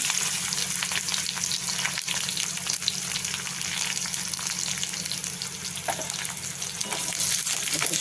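Onion frying with cumin and mustard seeds in oil for savoury broken-wheat upma, a loud continuous sizzle with occasional stirring scrapes, no talking.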